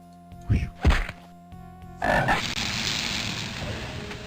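Two deep, loud croaks from a large toad in the video game Ravenloft: The Stone Prophet, then a louder ambient rush of game sound.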